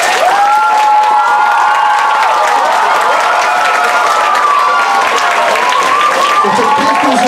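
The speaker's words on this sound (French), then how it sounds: "j'aimerais qu'on les applaudisse tout le monde" Loud audience applause at a public-speaking contest, sustained clapping mixed with cheers and shouts from the crowd, continuous and close throughout.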